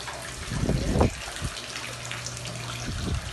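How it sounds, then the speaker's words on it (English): Water from a lobby water feature at a Fort Myers Beach condo runs steadily with a broad, continuous splash. A few louder surges come through near the start, and a low hum sits underneath. "with water feature"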